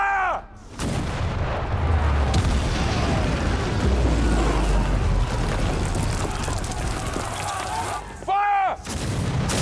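Cannon artillery fire in a period battle scene: heavy booming blasts with long rumbling tails, loud and close, a sharp opening shot followed by sustained rolling thunder and another crack near the end.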